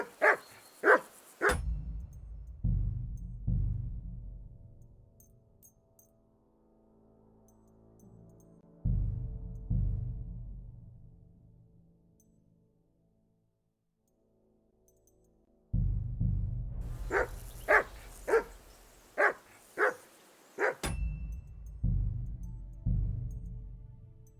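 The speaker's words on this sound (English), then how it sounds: "Call off that mutt of yours!" A dog barks in sharp clustered volleys in Kingdom Come: Deliverance II, loud and close, with quieter gaps of low rumbling ambience between the bursts.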